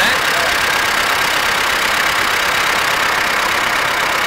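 A T-40M tractor engine idles close by with a loud, steady, unbroken mechanical drone and hiss that does not change in pitch or strength throughout.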